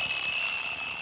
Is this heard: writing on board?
no